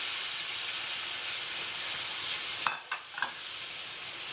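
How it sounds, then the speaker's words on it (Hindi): Tomato puree from three blended tomatoes hits hot butter in a pan for mushroom masala, giving a steady sizzling hiss, then a few sharp spattering pops near the end. "और अब मैं इसमें डालूंगी ये टमाटो प्यूरी जो हमने 3 टमाटर को मिक्सी में पीस के लिया है."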